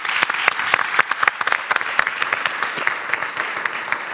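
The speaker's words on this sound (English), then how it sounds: "Let's make a great round of applause to our panelists." An audience at a wind energy conference applauds the panelists, a dense spread of many hands clapping in a room, steady and fairly loud, with no voices over it.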